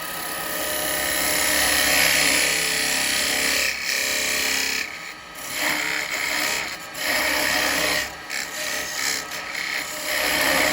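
A parting tool cuts into wood spinning on a woodturning lathe, giving a steady, close scraping hiss over the motor's hum, with brief dips as the tool eases off and bites again.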